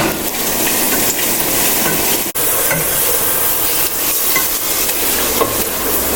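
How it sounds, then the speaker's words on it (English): Garlic and ginger sizzle and fry loudly in a hot pan while being stirred, a steady close frying hiss with scraping stir strokes and one brief break, no talking. "And then we'll give it a quick mix."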